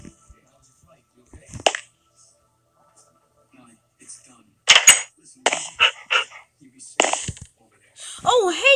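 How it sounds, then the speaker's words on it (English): A dog in the Minecraft video game barks in a few short, sharp bursts from close by, scattered among quiet gaps and other game noises. "Oh, hey, doggy."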